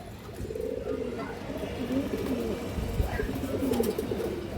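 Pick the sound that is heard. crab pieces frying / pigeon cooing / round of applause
pigeon cooing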